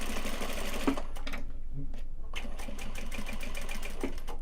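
A sewing machine runs a steady, fast stitching whir while sewing a Japanese fabric pencil pouch, pausing briefly midway before resuming, with a voice talking over it.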